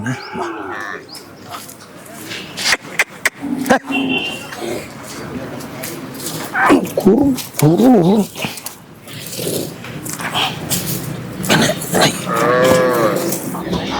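Cattle at a native cattle market, with a few lowing calls amid crowd chatter and people talking nearby, plus scattered bird cooing and market bustle.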